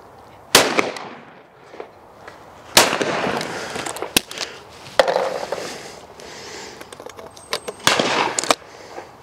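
Blaser shotguns firing at clay targets, several sharp, loud shots spaced a second or more apart, each cracking out with a brief echoing tail across an open shooting ground.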